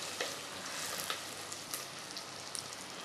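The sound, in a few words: onions frying in a pan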